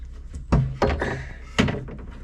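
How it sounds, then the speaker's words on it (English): Several dull wooden thunks and knocks, as of a small room door being shut and handled, three distinct impacts close to the microphone with faint rattling between them. "close the door"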